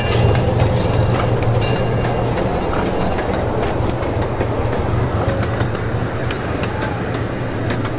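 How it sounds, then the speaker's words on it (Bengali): A train pulls in at Smithville, New Jersey, its steady loud rumble and clickety-clack of wheels running continuously up close for several seconds. "ট্রেন এসে গেছে, ঠিং টং,"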